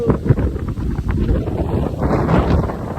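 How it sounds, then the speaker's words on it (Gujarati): Strong wind buffets loudly and continuously, a low roaring rush that keeps blasting without a break. "પવન આવ્યો"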